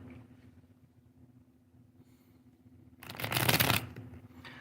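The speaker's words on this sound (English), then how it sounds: "Just shuffling the deck" A deck of tarot cards being shuffled, with a faint low hum underneath and then one loud riffle burst lasting under a second near the end.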